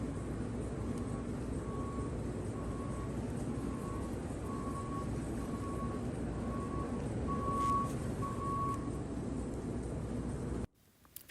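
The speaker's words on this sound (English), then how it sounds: "that beeping, that's the backup alarm for the feed truck and the skid steers" The backup alarm of a feed truck on a dairy farm beeps in a steady, evenly spaced pattern at moderate distance over a constant low background rumble.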